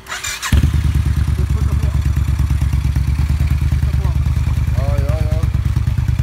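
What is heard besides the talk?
Suzuki Intruder 1400 motorcycle with Vance and Hines exhaust running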